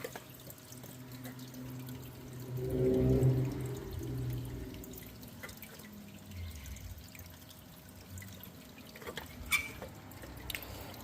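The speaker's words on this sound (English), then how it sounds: "So I'll just drain this last little bit of excess water off." Excess water drains off a large Minelab gold pan in a soft, uneven trickle, swelling briefly before easing into faint drips and quiet splashes.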